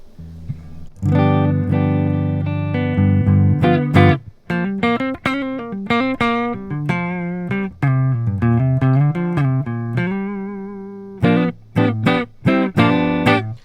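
An electric guitar plays through a REVV D40 Dynamis amp with the gain raised, giving a crunchy, driven tone. Sustained chords give way to punchy rhythmic stabs and ringing notes, loud and alone.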